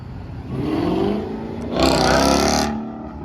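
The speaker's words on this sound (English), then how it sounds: "Get some supercharger noise here." A Jeep Trackhawk revs at a Midwest car show, its engine swelling twice with a bright supercharger whine on the second, louder pull, then easing back to idle.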